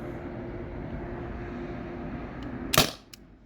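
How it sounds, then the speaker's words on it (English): A modded T4E TR50 CO2 pistol firing an aluminum round: a single sharp crack near the end, rising over a low steady hum and followed by a brief quieter tick. "So that was the last shot on the aluminum rounds"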